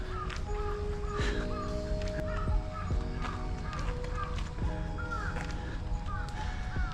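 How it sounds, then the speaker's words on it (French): Crows caw again and again in Japan, some near and some farther off, their harsh calls overlapping above a steady outdoor background hum. "Ces oiseaux-là, on les entend beaucoup au Japon."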